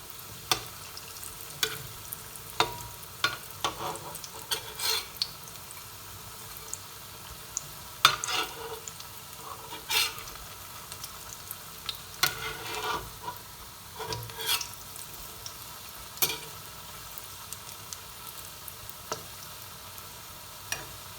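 A tender jackfruit cutlet fries in a pan with a steady soft sizzle, broken now and then by sharp clicks and scrapes of stirring or turning, all fairly close and without any talk.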